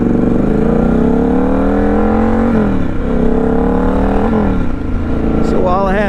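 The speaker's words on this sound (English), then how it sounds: "That Aprilia Tuono sure sounds good." An Aprilia Tuono motorcycle engine runs loud and close, holding a steady throaty note that swells and dips through a few revs before climbing into a sharper rising pitch at the end.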